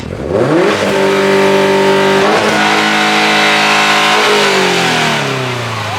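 A Subaru BRZ second-generation with the FA24 engine and aftermarket JDL headers accelerates through a parking lot, its loud, close exhaust note climbing steadily in pitch through the revs, easing briefly at a shift, then rising again, with no talk over it.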